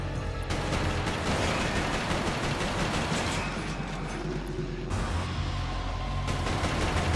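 Rapid, sustained gunfire from the video game Resistance: Fall of Man, a dense continuous crackle of shots and battle noise that fills the whole stretch without pause.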